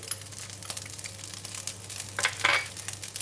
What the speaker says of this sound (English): Now we're going to stir in the salted fish and the chili